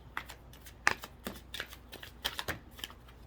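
Tarot cards being shuffled by hand during a love reading, a run of crisp riffling and flicking bursts in uneven rhythm, close and clear with no talking.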